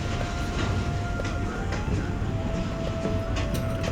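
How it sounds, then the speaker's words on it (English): A long train rolling steadily past nearby in Jamaica, wheels rumbling with rhythmic clicks and a thin metallic squeal underneath from binding wheels. "Those wheels sound like they are binding."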